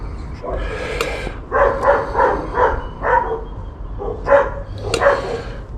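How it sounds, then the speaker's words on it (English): Several dogs bark in repeated bursts at a moderate distance, kept up across the stretch with a steady low rumble of background noise underneath. "You hear those dogs bark"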